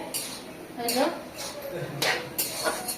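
A pot lid clatters down over Malabar spinach frying in a village kitchen, a few clinks and knocks of metal cookware over a low steady frying hiss, with a voice speaking.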